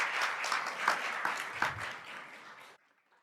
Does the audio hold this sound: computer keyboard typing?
no